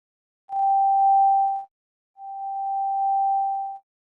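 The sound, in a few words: higher-frequency sine wave tone from a synthesizer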